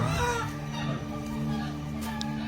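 Chickens cluck and a rooster calls intermittently, close and fairly loud, over a steady background hum with some faint human voices.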